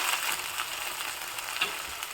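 Okra frying in a pan with salt added, a steady bright sizzle with faint crackles throughout and no speech.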